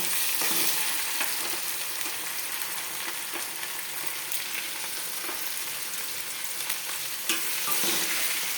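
Ginger garlic paste fries in a pan for a dried fish curry while a spoon stirs it, a continuous loud sizzle with soft scraping strokes throughout.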